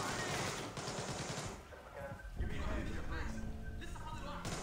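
Gunfire rattles in Splinter Cell Blacklist, with several sharp shots in quick succession mixed with game background sound and music.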